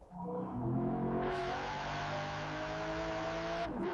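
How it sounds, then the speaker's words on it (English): A Lamborghini V12 hybrid engine revs in a sustained, loud, close roar that climbs in pitch and then holds steady before easing off at the end, with no talk. "It's proof that the V12 engine can evolve."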